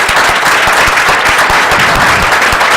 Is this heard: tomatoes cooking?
no